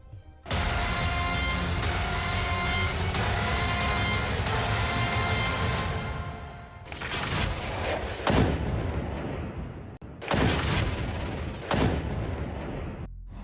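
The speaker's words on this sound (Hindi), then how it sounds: "लेकिन दूसरे रॉकेट ने धमाका कर दिया।" Heavy booming blasts and sustained roaring rumble of a rocket interception, followed by several sharp explosive bursts as a second rocket explodes; loud and echoing, with no voices.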